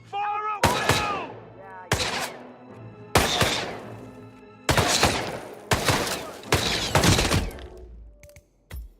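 Bursts of gunfire in the video game Hitman 3: about six loud, close volleys with sharp attacks and ringing decay, separated by brief gaps and ending with a couple of smaller thuds, with a shouted voice briefly at the start.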